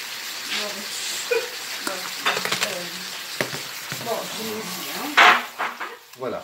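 Strawberries with fresh green peppercorns flambéed in a pan: soft sizzling and clatter of utensils against the pan, then a sudden loud whoosh of flame near the end, fading out with scattered clinks.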